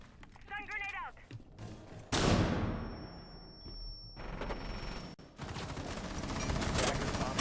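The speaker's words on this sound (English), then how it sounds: "Stun grenade out." A stun grenade going off in a competitive tactical shooter match, a sudden loud blast followed by a long high ringing tone that cuts out, with gunfire and game noise resuming after.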